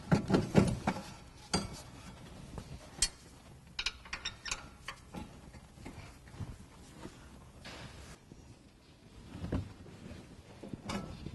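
A ratchet wrench loosens the rear wheel hub bolts on a Fiat 500 during a rear brake disc and pad change. Close, irregular bursts of ratcheting clicks and metallic knocks come with brief pauses.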